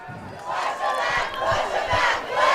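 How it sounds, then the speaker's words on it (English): A high school football crowd roars and chants from the bleachers, with low rhythmic thumps from people banging on the stands beneath a loud, continuous mass of voices. "they're banging on the bleachers right now"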